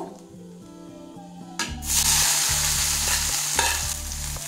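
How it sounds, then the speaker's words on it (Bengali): Onions hit hot mustard oil seasoned with black cumin in a kadai, bursting into a loud, steady sizzle after a quieter start, with stirring scrapes throughout and no talk. "সর্ষের তেলে দিয়ে দিচ্ছি কালো জিরা। এবার দিয়ে দেবো পেঁয়াজ"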